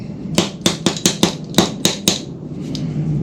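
A part of an ice machine is tapped about ten times with a hard tool, giving a quick run of sharp, close knocks with a brief pause near the end.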